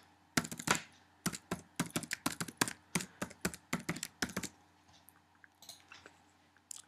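A password is typed on a computer keyboard: a quick, close run of about twenty crisp key taps in an uneven rhythm, then a few faint clicks in a quiet room.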